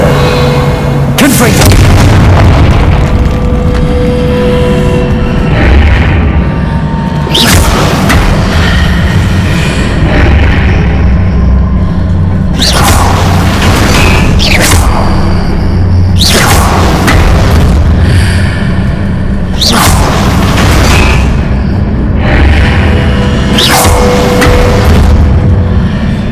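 Repeated heavy Confringo spell blasts in a fantasy video game, deep booming bursts roughly every few seconds over a continuous rumbling game backdrop, loud and close.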